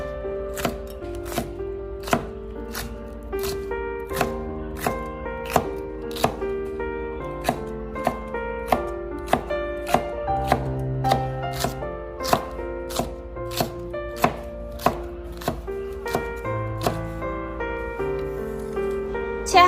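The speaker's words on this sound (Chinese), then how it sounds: "然后将青椒切成长条" Knife chopping green peppers into long strips on a cutting board, a fast, steady run of sharp close taps repeating for about twenty seconds, with no talk.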